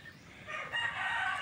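A Rhode Island chicken gives a short, faint crow that rises and holds for about a second, heard alone at moderate distance with a soft farmyard background.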